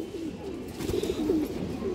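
A pigeon with stone-coloured eyes gives a soft, low coo in a couple of short phrases close by, over a faint background hum.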